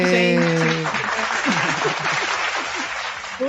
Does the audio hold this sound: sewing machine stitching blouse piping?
no